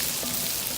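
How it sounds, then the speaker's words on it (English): Onions sizzle in a hot pan, a steady close hiss of frying that holds at one level throughout the brief moment, with no voices. "So it's starting to sizzle now"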